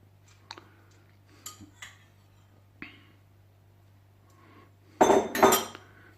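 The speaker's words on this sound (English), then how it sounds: "what we do now is put in the the lentils, which have been washed before we put them in." Washed lentils go into a stew pot: a few light clinks and taps, then a loud, close rattling pour of grains near the end.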